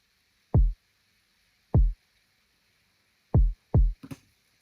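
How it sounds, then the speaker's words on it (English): Soft kick drum preset from the Logic Pro stock drum synth, processed with cassette-style saturation and compression, four deep, short thumps at uneven spacing followed by a quick higher click, alone over faint hiss. "to use a preset of soft kick"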